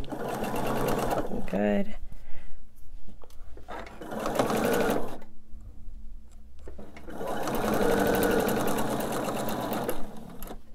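A home sewing machine stitches fabric in several loud bursts of rapid, steady whirring, separated by pauses, with a person talking between and over the runs.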